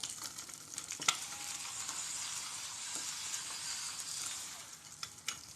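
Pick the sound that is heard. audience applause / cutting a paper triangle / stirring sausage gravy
stirring sausage gravy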